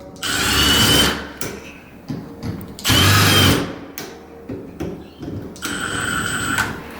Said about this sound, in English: or you can use a drill